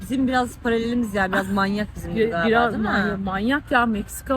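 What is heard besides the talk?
No distinct noise like a dog, phone or traffic.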